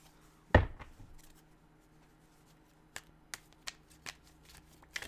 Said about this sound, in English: Just waiting around and I'm shuffling my cards.